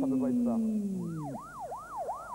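Police siren wails in a looping up-and-down pattern, fairly close and clear, rising and falling several times after a French-speaking voice talks over a descending tone at the start.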